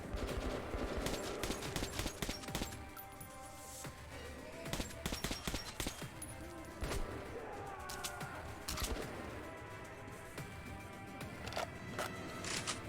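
Gunfire in the first-person shooter Metro 2033 Redux, a dense, fast series of sharp shots bursting out in clusters over a continuous game soundscape, with short quieter gaps between volleys.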